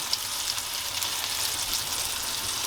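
A steak roasting in a pan with sage, rosemary and thyme gives a loud, continuous sizzle and crackle of hot fat, steady and close with no pauses.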